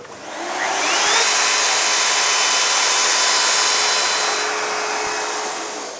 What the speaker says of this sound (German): du fräst. Auch schön langsam, damit das Holz nicht brennt oder anfängt.